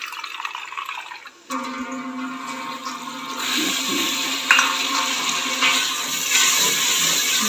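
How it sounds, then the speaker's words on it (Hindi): Water runs from a kitchen tap while cooking, a faint hiss that swells after a second into a steady, fuller gush continuing to the end. "टूटी से पानी देना पड़ेगा"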